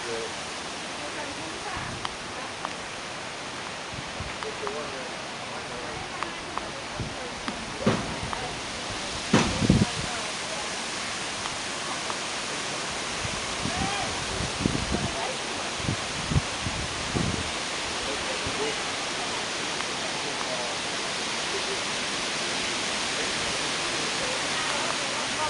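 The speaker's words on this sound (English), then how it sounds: "Wind starting to pick up." Strong wind from Hurricane Ike, a category 2 storm nearing landfall on the Gulf coast, roars steadily and broadly, with brief louder gusts and rustling bursts scattered through it.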